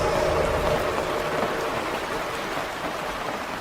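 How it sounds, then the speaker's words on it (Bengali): Steady rain pours down in a dense, continuous hiss, with no voices and an even loudness throughout. "বৃষ্টি পড়ার শব্দ হচ্ছে।"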